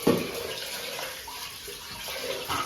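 Rice being rinsed in water while preparing pulihora (tamarind rice), with a steady close splashing and sloshing of water that swells briefly at the start and again near the end.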